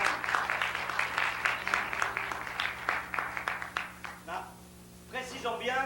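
An audience claps for a singer at a 1996 show, a burst of scattered applause that fades out before a voice speaks briefly.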